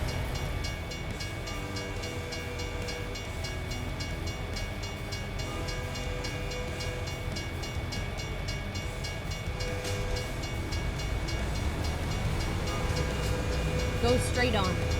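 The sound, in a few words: train passing nearby in a truck driving video game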